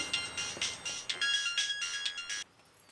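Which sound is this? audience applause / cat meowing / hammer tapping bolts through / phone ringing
phone ringing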